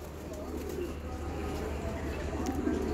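Hungry pigeons in a loft of about thirty birds, including imported and Iraqi breeds, coo softly and continuously close by, with low throaty calls overlapping throughout.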